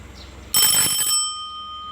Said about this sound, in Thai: ออดครั้งที่หนึ่งให้เตรียมพร้อม ออดครั้งที่สอง พักเที่ยงพักกลางวันได้